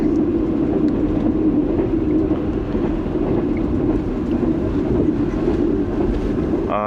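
Steady rumble of the Pak Business Express premium train running between Lahore and Karachi, heard from inside the carriage as a continuous loud low roar with faint rattles and no talking.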